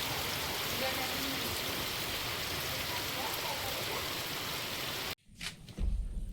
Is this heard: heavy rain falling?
yes